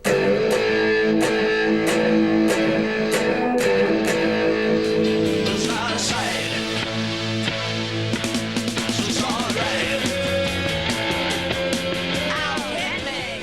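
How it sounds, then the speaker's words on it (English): Electric guitar played low on the bottom strings through a wah-wah pedal, a loud, dense, distorted sustained tone with clashing harmonics and a sweeping filtered quality, continuous for the whole stretch with no talk. "then you add the wah-wah, which sort of messes up all the harmonics, so all the little tones clash"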